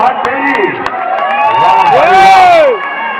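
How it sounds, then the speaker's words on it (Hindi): A loud crowd roars and cheers with whoops and scattered claps at a kabaddi match in Bhatkhedi, while an excited commentator's voice rises over the noise throughout. "आखिरी मिनट एक बार जोरदार तालियां बजा दे"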